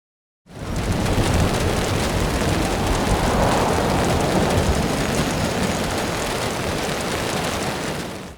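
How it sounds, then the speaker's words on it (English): Rain pours onto city street props such as trash bags in the video game GTA 4, a dense, loud, unbroken hiss that starts abruptly and holds steady for about eight seconds with no talking. "What's also impressive about rain in GTA 4 is that certain minor city props have a different sound of rain falling down on them."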